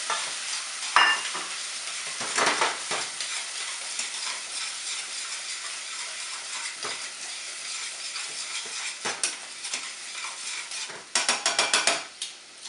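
Minced carrots, celery and onion crackle and sizzle in a hot pan while a utensil stirs and scrapes through them in repeated sweeps, close and clear with no voices.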